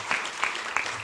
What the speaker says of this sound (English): So just a round of applause for our Deputy Grand Marshal.